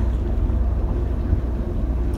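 A boat engine runs steadily on the tidal River Trent, a continuous low rumbling drone under gusty wind buffeting the microphone, fairly loud and close with no talking.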